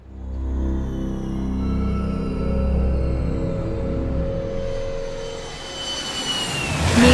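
A Bombardier Challenger 300 executive jet cruises at altitude as an audio-drama effect: a steady, loud engine roar with droning tones that swells toward the end.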